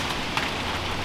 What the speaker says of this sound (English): the rain is mostly stopped. That's just coming off the trees.